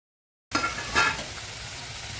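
Samosas dropped into hot oil for deep-frying, an abrupt onset of close sizzling and bubbling with a brief louder surge, then a steady fizz.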